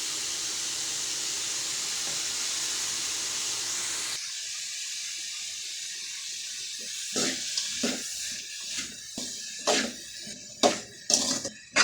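Carrot and beetroot sautéing in a pan, a steady hiss at first, then scraping, clinking stirring strokes that grow louder and more irregular toward the end.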